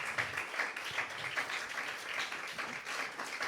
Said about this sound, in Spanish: démosle un buen aplauso a nuestro Señor